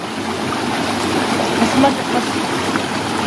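Clear, cold water flows from a natural spring source among stones, making a steady close trickling and rushing wash with a few brief splashy bubbles.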